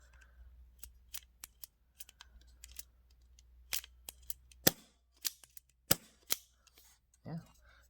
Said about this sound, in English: So watch as I pull the trigger again.